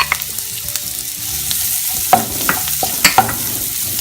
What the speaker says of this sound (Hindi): इसे भी हमें हल्का सा फ्राई करना है।